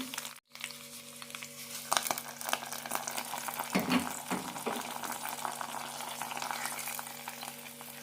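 Hot tempering of mustard seeds, fenugreek, curry leaves and red chillies poured into a banana moru curry, giving a steady soft sizzle and crackle with a brief splash and stirring, close and fairly quiet throughout.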